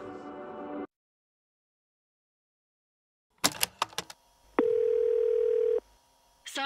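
Telephone dial tone from a phone call in the video game Far Cry 6, a steady sustained tone of about two seconds following a few sharp clicks and beeps, with short bursts of sound before and after and a long silent gap earlier.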